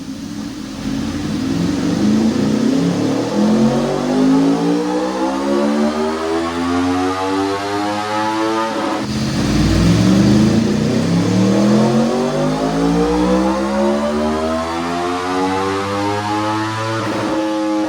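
A 2026 Aprilia Tuono V4 running stage 2 modifications with stock velocity stacks on 91 pump gas screams through two full-throttle dyno pulls, its engine note climbing steadily in pitch, loud and close, with no talk.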